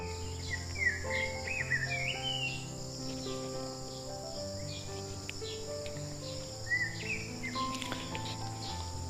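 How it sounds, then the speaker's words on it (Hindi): A peaceful ashram setting in Dehradun, filled with birds chirping and calling over a dense, continuous bed of insect and cricket trills, with several overlapping calls near and far and no one talking. "पक्षियों की बहुत सुंदर चहचहाने की आवाज़ आ रही है यहाँ पे।"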